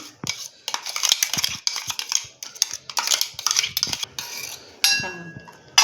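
Green masala paste being mixed into raw chicken in a bowl for a Marathi-style green chicken curry, giving repeated wet squelching and clinking utensil sounds in close, irregular bursts, with a brief metallic clatter near the end.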